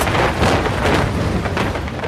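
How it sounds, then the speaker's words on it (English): Thunderstorm with heavy rain around an airliner, Southern Airways 242, a dense, loud, unbroken roar of rain and rumbling for about two seconds. "Mackenzie and Keel desperately seek an escape route from the storm"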